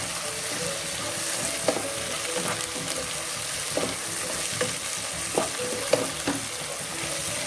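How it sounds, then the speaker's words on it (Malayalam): Tomatoes for a crab roast sautéing in a pan, with a steady sizzle under repeated scraping spatula strokes and occasional clicks against the pan, close and fairly loud. "തക്കാളി ചേർത്തതിന് ശേഷം നന്നായിട്ട് വഴറ്റുക"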